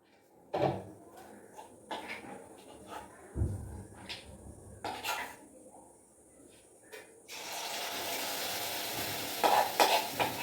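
Meat frying in a pan: scattered hard knocks and clanks of utensils at first, then a steady, close sizzle takes over for the last few seconds.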